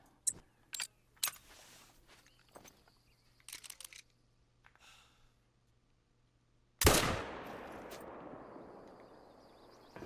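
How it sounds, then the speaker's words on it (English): In Hunter Call of the Wild at Mississippi Acres Preserve, a single loud rifle shot cracks through brush and rolls out in a long echoing tail, after several seconds of quiet clicks and rustles. "I did shoot through a bunch of brush"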